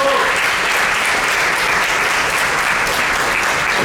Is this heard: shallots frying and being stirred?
no